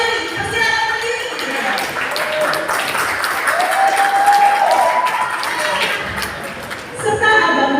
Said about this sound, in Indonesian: Beri tepuk tangan yang meriah untuk Dewan Juri